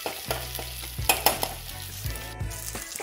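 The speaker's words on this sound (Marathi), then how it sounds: "आलं लसूण पेस्ट सुद्धा मी कांद्यामध्ये चांगल्या प्रकारे परतून घेत आहे" Ginger garlic paste and onions are sautéed in a pan, a continuous sizzle with repeated scraping and stirring strokes of a spoon against the metal, close and alone.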